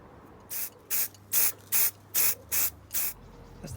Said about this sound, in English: That's the bracket all sprayed.